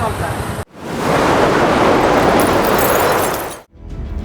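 Heavy, continuous rain pours down in a waterlogged Bengal district, a dense, loud roaring wash that holds steady for about three seconds, with brief quieter moments before and after.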